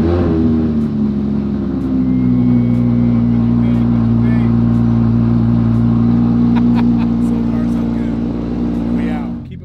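An Audi R8 engine, just started in quiet mode, idles with a deep, steady rumble close by, holding a smooth low hum before fading out; a few faint voices and clicks occur.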